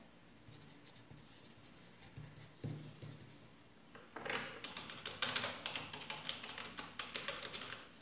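A computer keyboard in a quiet secretary-office setting is typed on softly, with light irregular taps that turn into a quicker, denser patter of keystrokes partway through.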